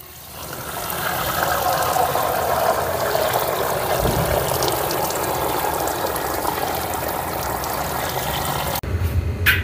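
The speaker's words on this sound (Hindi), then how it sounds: "अब हम इसको दो तीन पानी से साफ धोकर ले लेंगे" Soaked whole masoor lentils are rinsed in water, a steady close splashing and trickling that runs continuously for several seconds before stopping abruptly near the end.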